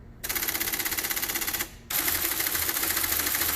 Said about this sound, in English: This typewriter is probably from the 80s.